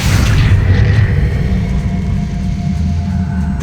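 A Confringo fire blast spell from Hogwarts Legacy on PC, heard as a loud, sustained booming rumble with heavy low-end energy that holds steady for several seconds.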